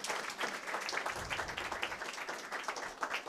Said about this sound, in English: So please, another wonderful round of claps.